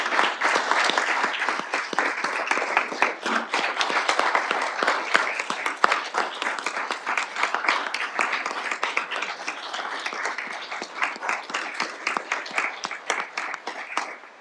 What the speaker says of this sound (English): Let's have a huge warm round of applause for our 25-year service employees.